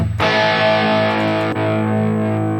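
Distorted electric guitar through a Tonocracy amp simulator factory preset rings out with a thick, saturated tone, one sustained chord then a second strike, loud and close.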